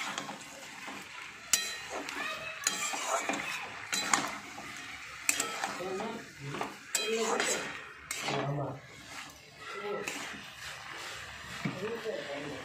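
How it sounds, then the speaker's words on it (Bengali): Small fried fish, figs and chopped coriander stirred together in a pan, repeated scraping and clinking of a spatula against metal over a faint sizzle, with some voice in the background. "এবার একসঙ্গে ভালো করে নেড়ে নিচ্ছি"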